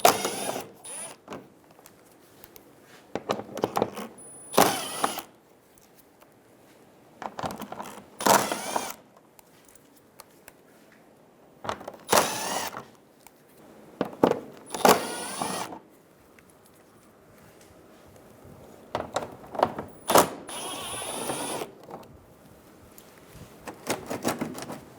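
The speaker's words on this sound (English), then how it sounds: "Using a 10mm socket, we're going to go around the front bumper on the bottom and remove all of the bolts." A tool with a 10mm socket spins out the lower front bumper bolts on a 2007–2011 Toyota Camry, coming as repeated short whirring bursts, each a second or two long, separated by quiet pauses.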